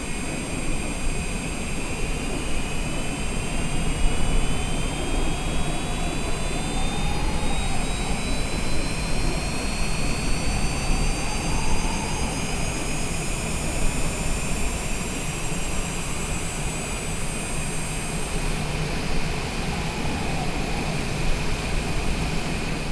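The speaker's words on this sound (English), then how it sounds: "we got a good start on engine number 2" A Boeing airliner's jet engine starts in Microsoft Flight Simulator: a steady, loud broadband roar with a thin whine climbing slowly in pitch as it spools up, then holding level near the end.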